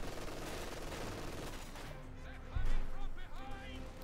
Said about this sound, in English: MG42 and the penal troopers there firing away